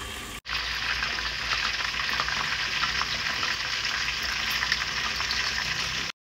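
Mini potatoes boil in a pot: steady, dense bubbling of water at a rolling boil, close by and continuous for several seconds, with no talking.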